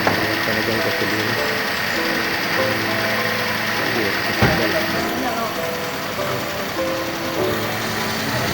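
A car engine that has just started after running out of fuel keeps running steadily at a near idle, with a faint knock and a brief sharper sound partway through.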